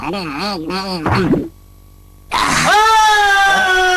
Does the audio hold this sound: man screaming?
yes